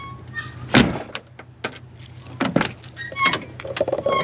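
A van's door lock unlocking, heard from close range as a string of sharp clunks and clicks spread over a few seconds, with brief background noise between them.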